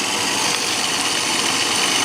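A rotary attraction motor driving a flux gate generator, turning at about 2,872 RPM through a 3.33 to 1 gear reduction, giving off a steady, loud, broadband whirring drone without change.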